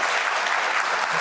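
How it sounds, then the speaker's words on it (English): A studio audience claps at a televised leaders' debate between Starmer and Sunak, the applause dense and continuous for the whole short stretch. "Who are they clapping"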